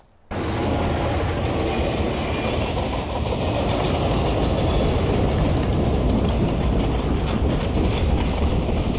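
A train roars past on the rails, starting abruptly and staying loud and steady, with rumbling wheels and rhythmic clatter close by.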